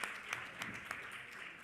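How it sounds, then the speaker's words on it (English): Brief burst of audience applause at an awards ceremony evening, a steady crowd clatter with a few sharper claps standing out, short and moderately loud. "A big round of applause, please."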